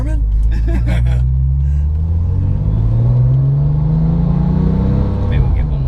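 A 2008 Porsche 911 GT2 (997) accelerates hard, its engine note rising steadily in pitch as it builds into a loud, close, sustained pull heard from inside the car, with brief talk at the start.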